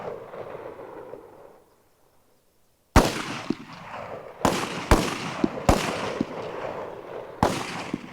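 Soldiers firing rifles at targets on an army firing range in Nagarparkar: five sharp, loud shots crack out at irregular intervals after a quiet stretch, each followed by a short echoing tail.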